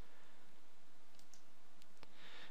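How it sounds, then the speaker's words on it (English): A single faint computer mouse click lands near the end, set against a quiet hiss of room tone on a Windows Server 2008 R2 setup. "so I'll click on next."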